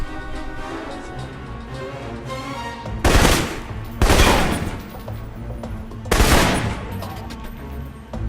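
Assault rifle fire in a video game, three sharp loud bursts spaced about a second or more apart over a low ambient game backdrop, with no voices.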